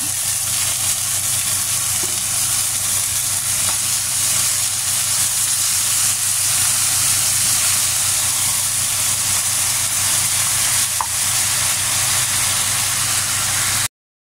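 Food sizzles loudly and steadily in a frying pan after red sauce is poured over it in a home kitchen, a continuous dense hiss and crackle with no talking.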